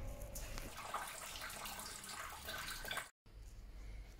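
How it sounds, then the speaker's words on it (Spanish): Coolant water drains from the radiator of a Honda Civic EK4 with a B16A2 engine during a timing belt and water pump job, a steady splashing trickle that runs almost four seconds before a brief cut. "Ahora vaciamos el agua de radiador para cuando saquemos la bomba que esté vacía"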